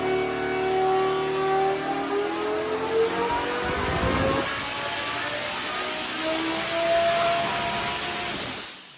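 A Lamborghini 5.2-litre naturally aspirated V10 revs hard, a loud, sustained engine roar climbing through the gears with a brief dip midway, heard steadily close for several seconds before tailing off.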